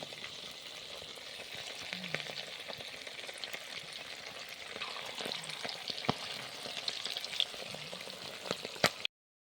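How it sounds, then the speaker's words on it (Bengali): Battered chicken pakoras deep-fry in hot oil, producing a soft, steady sizzle and bubbling throughout, with occasional small clicks and pops, fairly quiet and close, then cutting off abruptly at the end. "মানে চিকেনগুলো পকোড়া ছাঁকার জন্য একটা একটা দিয়ে দিচ্ছি"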